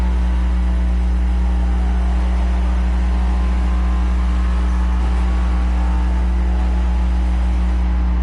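A 342-horsepower car in a driving video game holds a steady, loud mid-pitched engine drone as it accelerates past an X6, continuous throughout with no talking.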